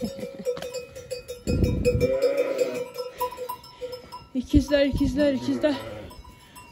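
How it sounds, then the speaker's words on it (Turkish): Lambs bleat in short wavering calls, close by, overlapping with someone speaking and a faint clank in the background. "Şu an 30 tane kuzum var."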